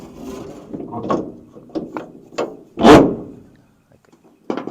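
A large metal wing nut is turned on a Hi-lift jack mount, giving a series of short scraping, grinding rasps and clicks in irregular bursts, one louder grinding turn, then a pause and a final scrape, close up with no talking.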